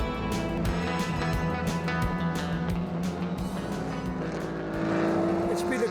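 A 1954 Jaguar D-Type racing car at the Le Mans Classic, its engine a steady, loud, rumbling drone held for several seconds with a constant low pitch and a slight swell near the end.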